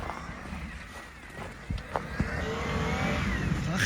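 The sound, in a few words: car engine revving on mountain road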